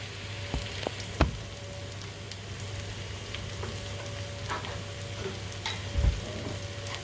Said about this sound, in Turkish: Ve burada da soğanımız pişiyor